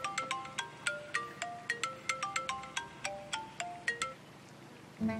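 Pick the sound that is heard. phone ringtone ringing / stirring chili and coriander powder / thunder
phone ringtone ringing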